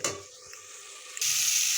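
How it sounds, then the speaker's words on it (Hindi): Tomatoes fry in a pan for a mung dal masala, producing a soft hiss that jumps to a louder, bright sizzle about two-thirds of the way through. "टमाटर को अच्छी तरह भूनूंगा"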